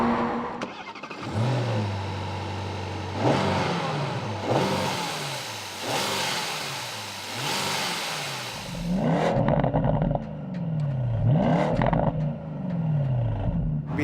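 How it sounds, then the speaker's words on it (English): A 2019 Porsche Panamera GTS's 4-liter twin-turbo V8 revs repeatedly, rising and falling in strong surges from a deep idle, close and loud, with a sharper burst of revs near the end. "the V8 4-liter twin-turbo engine with 460 horsepower"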